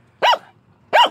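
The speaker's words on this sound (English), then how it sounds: "we got a dog that won't quit barking at us" Two sharp, close dog barks about half a second apart, with quiet between them.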